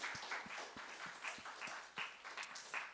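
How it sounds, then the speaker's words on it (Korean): A church youth-service audience applauds to thank its teachers, a faint, distant patter of clapping in a room with soft, regular thumps running underneath. "우리 사랑하는 선생님들을 위하여 크게 박수로 감사했으면 좋겠습니다"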